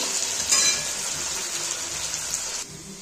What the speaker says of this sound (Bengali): দেখো তেলটা গরম হয়ে গেছে, এবার আমি সব পেঁয়াজ, কাঁচা লঙ্কা, টমেটো একবারে দিয়ে দিচ্ছি